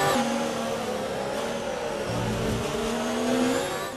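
A McLaren F1 car locking its wheels under braking in the video game F1 2019: a loud, continuous high engine whine with a shifting pitch and a brief tire squeal, close and unbroken, without talking.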